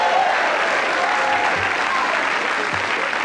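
Applause from a large television studio audience at a 1991 late-night talk show, dense and continuous clapping at an even level throughout, with no voices over it.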